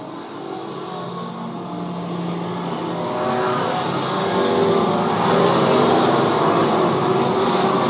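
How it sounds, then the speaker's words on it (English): Race cars roar around a dirt speedway oval at Lakeside Speedway, with Pure Stock engines droning loudly and swelling as the pack passes close by, a continuous layered engine noise without talk. "Trevor Hand gain about 2 car lengths per lap"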